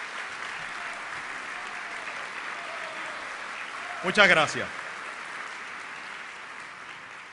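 Steady applause from a crowd at a 2009 Puerto Rico National Guard ball fills the space, a dense, even wash of clapping, briefly joined by a short spoken remark near the middle.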